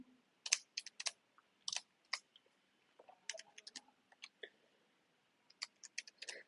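Calculator buttons pressed in quick bursts of light clicks with short pauses between them, close and fairly faint, in a quiet room with no talking.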